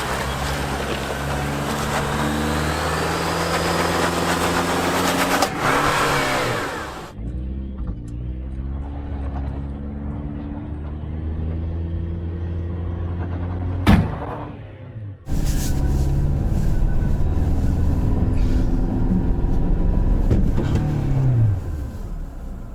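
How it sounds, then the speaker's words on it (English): A Toyota Tacoma TRD Pro drives off-road with a steady engine drone and road rumble that drops out briefly, then a sharp clunk near the middle before the loud driving noise resumes with rattling. "The front diff completely blew out."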